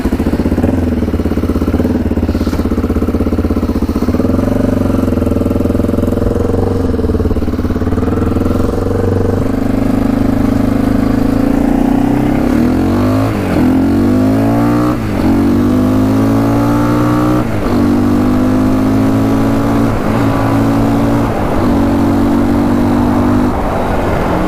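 Can-Am DS 650 quad engine on a road ride, a loud continuous close engine drone rising and falling in pitch as the rider accelerates and shifts.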